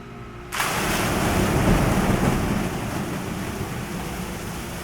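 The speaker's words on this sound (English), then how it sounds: "The water covered us completely, indeed filled the small room." Water rushes in to flood a submarine's sea lock in an audio drama, a loud, sustained broadband roar that surges in abruptly after a brief quieter moment and then eases slightly, with no voices.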